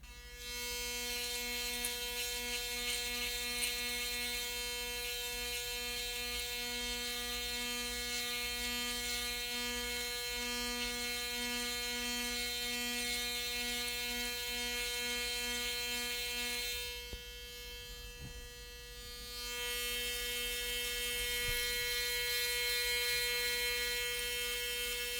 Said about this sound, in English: This thing's blades, they shave when they detect the hair, so you got to get it just right in order to shave some